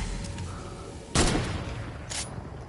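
A loud, sharp sniper rifle shot cracks out in a video game, followed about a second later by a second, slightly softer shot, over a steady background of game ambience.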